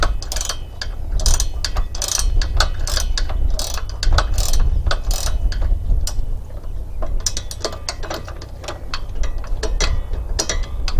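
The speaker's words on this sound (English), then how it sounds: "I'm using a ratchet open-end wrench 10 millimeter." Ratcheting clicks from a 10 mm ratchet open-end wrench tightening bolts on a miter saw stand, a fast series of sharp, close clicks in bursts with a short pause midway.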